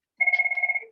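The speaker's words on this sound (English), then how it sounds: "Bell ringing." A telephone bell rings in a short, rapid electronic trill under a second long, clear and fairly close, in a quiet room.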